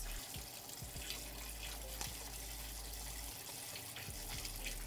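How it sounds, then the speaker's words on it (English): Water runs steadily from a kitchen tap over a garlic press that has just crushed garlic cloves, a continuous close splashing rush with small drips and clinks, and no voices. "And the garlic press. Which I have to rinse."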